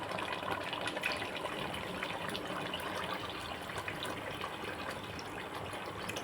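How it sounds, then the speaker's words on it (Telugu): Tamarind juice pours steadily into a fish curry as it cooks, a continuous soft gushing liquid sound that stays fairly faint and even from start to finish with no voices. "ఇప్పుడు మనం చింతపండు రసం వేసుకుందాం"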